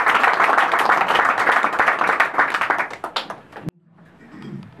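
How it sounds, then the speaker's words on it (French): An audience at a political gathering in Goma claps loudly in a dense burst of applause that thins out and stops abruptly near the end, leaving a quiet room. "Applaudissez tous les deux."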